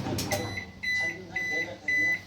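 A microwave oven that has just finished popping a packet of popcorn sounds three clear electronic beeps, evenly spaced, after a brief thump and some faint background noise.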